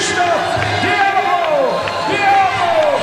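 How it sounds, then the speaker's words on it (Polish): Warsaw crowd roaring and cheering after boxer Krzysztof Włodarczyk wins a world title belt, a dense sustained ovation with a commentator speaking over it. "Warszawa, wiwatuje."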